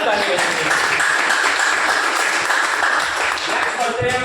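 Audience applause at a business-plan seminar hall, a dense, steady wash of many hands clapping throughout, loud and sustained with a faint voice or two beneath.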